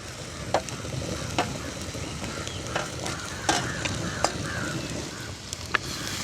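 Brinjal and dried anchovies fry in a pan with a constant close sizzle, while a utensil stirs them with scattered scraping clicks throughout.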